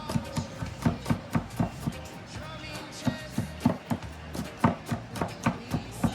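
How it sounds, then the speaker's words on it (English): Knife on a cutting board mincing aromatics for Jamaican brown stew goat, a brisk run of sharp, close chops in an uneven rhythm with brief pauses, loud and unaccompanied by talk. "You wanna mince these up really good."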